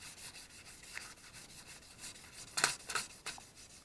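Guitar frets rubbed with 1500 grit sandpaper, a soft, quiet back-and-forth scratching repeated in short strokes, with a couple of slightly sharper rubs near the end, heard alone.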